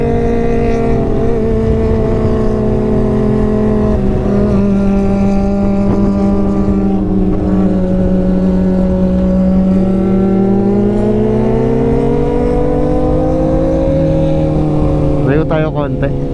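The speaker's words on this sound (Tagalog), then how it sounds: "Tabo na tabo yung tunog ng ating ZX4R dito sa 25R." Kawasaki Ninja ZX25R with a full exhaust system roaring steadily and loudly, the pitch wavering and rising near the end as the engine revs, with no break in the sound.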